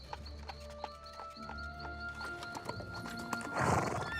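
Horses pulling a carriage arrive with steady, rhythmic clip-clopping hooves, jingling tack and a brief whinny, fairly close, for guests reaching a coronation ball; no speech.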